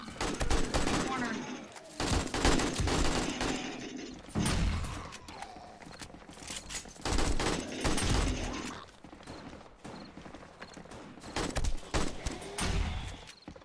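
Video game gunfire, with bursts of loud shots in clusters separated by brief lulls over busy game noise, and some talk mixed in.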